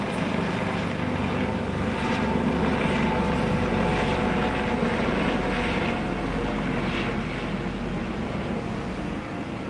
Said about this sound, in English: I hear the chopper. There's the chopper again.